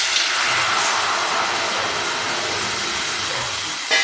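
Water poured into a hot, oiled pressure cooker sizzles with a sustained loud hiss, close up, fading slightly before a short clatter at the end.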